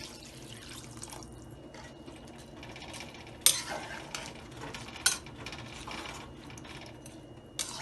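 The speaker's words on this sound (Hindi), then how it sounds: "टमाटर और हरी मिर्चें डालेंगे, नमक डालेंगे और तकरीबन 2 गिलास पानी डालेंगे।" Water poured into a pot of rice with tomatoes, green chillies and salt for matar pulao gives a steady close splashing and trickling wash, broken by a few sharper clinks.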